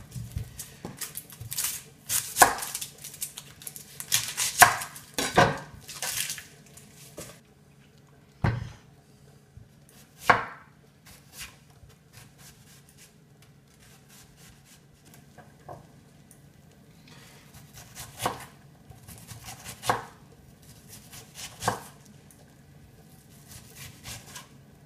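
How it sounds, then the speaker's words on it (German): Two large onions being finely chopped with a knife for Macaire potatoes, heard as irregular bursts of sharp board taps, some quick clusters and some isolated knocks, close and fairly quiet with pauses between. "Für die Kartoffeln brauchen wir weiterhin zwei große Zwiebeln,"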